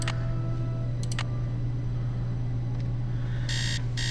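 An alarm clock in the Nancy Drew: Message in a Haunted Mansion video game rings with short electronic beeps over a steady low hum, and a brighter burst of ringing comes near the end.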